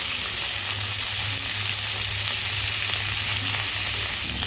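Malabar spinach stems and snake gourd fry in a pan for a fish curry, giving a steady, close sizzle that holds evenly throughout with no voices.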